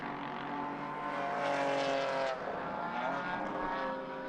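GT4 race cars rejoin the track at Suzuka circuit during a Japan Cup race, their engines droning and shifting pitch as they pass at moderate distance in a steady, sustained roar.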